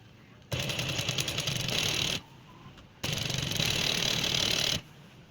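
A sewing machine stitches dori piping lace onto a dress in two loud, steady runs of rapid mechanical chatter, separated by a short pause, with no talking.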